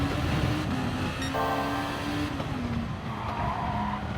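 Gr.2 race car in GT Sport brakes hard into a corner with loud, sustained tire squeal and skidding over a steady engine drone, close and continuous for several seconds with no talking.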